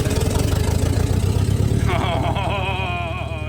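An International Scout engine runs with the choke pulled out, a loud steady pulsing idle close by, with a voice talking over it partway through.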